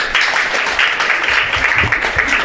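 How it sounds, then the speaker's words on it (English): Audience at a university talk clapping hands, a loud, dense burst of applause filling the whole stretch with no voices. "If yes, clap your hands"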